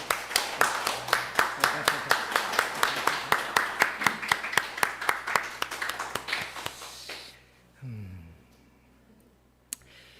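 Church congregation clapping during a Sunday sermon series service to welcome a guest lecturer, distinct sharp claps in a loose rhythm for about seven seconds, then stopping, followed by a brief low rumble and a single tap.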